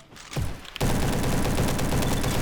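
SM-03 submachine gun in the Roblox game Bad Business, firing a loud, continuous rapid burst after a brief lead-in of scattered shots, with no talk.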